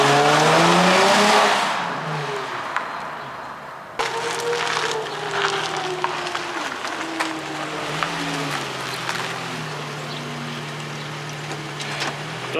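Drift car with a swapped-in Nissan G35 engine running and driving close by, its engine note rising and falling through revs with harmonic sweeps, an initial loud burst then steady running; no talk.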